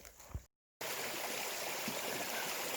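A stream flows steadily beside a campsite on the Pacific Crest Trail near Eagle Rock, a constant close rushing of water, briefly cut to silence before resuming.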